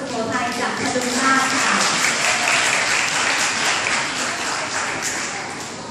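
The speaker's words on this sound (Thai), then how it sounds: "ขอเสียงปรบมือต้อนรับระบำสุโขทัยจากพดุงราช" Crowd applause welcoming a Thai Sukhothai dance performance at a student arts and crafts competition, a dense steady clapping that swells and then slowly fades over six seconds, with faint voices underneath.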